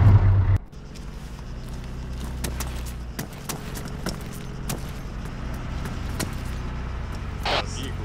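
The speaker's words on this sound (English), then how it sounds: "Is that a civilian vehicle?" Civilian car driving in the Arma 3 military game, a steady engine drone running the whole time with a few faint clicks and rattles on top, fairly close and moderately loud.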